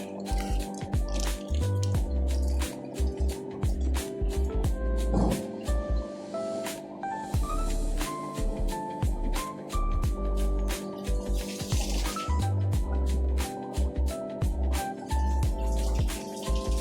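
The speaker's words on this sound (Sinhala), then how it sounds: "ටක් ගාලා වතුර ටික අඩු කරගෙන යන්න." Water drips and trickles steadily as it is drained from a goldfish tank, with repeated sharp drops and a soft running flow, close by under a low electrical hum.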